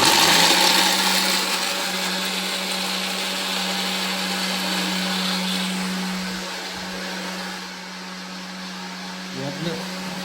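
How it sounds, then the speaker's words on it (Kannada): Electric mixer grinder whirring steadily as it grinds coconut in a home kitchen, a continuous loud motor drone with a hum that holds for the whole stretch and eases slightly near the end. "ಇವು ಮಿಕ್ಸಿಗೆ ಹಾಕಕತ್ತ ನೋಡ್ರಿ ಕೊಬ್ಬರಿ"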